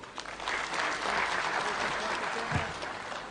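A crowd at a eulogy for Moi claps in sustained, dense applause that swells and then holds steady, with voices faintly mixed in.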